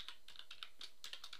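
Rapid clicking of a computer keyboard as someone types and presses the enter key, a quick run of crisp, close keystrokes with no talking.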